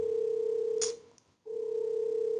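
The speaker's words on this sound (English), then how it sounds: "oh my god, who did call me again?" A mobile phone rings with an incoming call, a steady electronic tone held close and loud, briefly cut off before sounding again.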